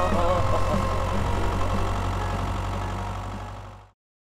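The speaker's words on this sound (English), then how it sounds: "Multipurpose tractor." A small DIY multipurpose mini tractor engine runs steadily at close range, a low throbbing idle with a constant hum that carries on evenly for several seconds before cutting off abruptly.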